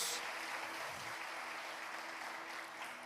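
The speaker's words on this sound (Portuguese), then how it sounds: "Você pode aplaudir o Senhor?" A church congregation claps together in sustained applause during a service, a dense, even patter of many hands filling a large room.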